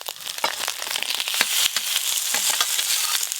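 Banana stem, potato and eggplant tossed into spiced oil in a village kitchen pan, giving a loud, continuous sizzle with scraping stir noises throughout and no talking.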